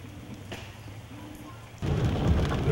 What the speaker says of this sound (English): Oh, today is a rainy day.